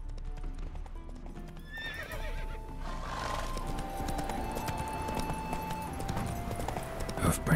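Roach, the horse in The Witcher 3, gallops with rapid, steady hoofbeats close by, a whinny cutting in and the rhythm continuing over ambient game sounds.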